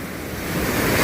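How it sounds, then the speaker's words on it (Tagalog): Large ocean waves surge and wash onto a shore in a steady, broad roar that swells louder toward the end, with wind noise on the microphone and no voices. "Lalaki ng alon."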